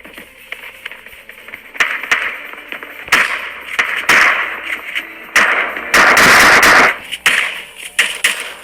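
An S1897 shotgun fires in a battle royale video game, giving loud sharp blasts scattered irregularly among other in-game impacts and noises, one burst especially heavy.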